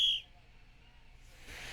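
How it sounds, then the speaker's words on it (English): A short whistle blast at the start, then quiet room tone and a faint rustle near the end. "Well, I gotta blow a whistle here."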